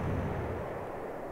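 Artillery bombardment in the WWII strategy game Panzer Corps, a dense rumbling blast that fills the moment and slowly tails off, heavy low-end boom with a rough noisy texture and no talk over it.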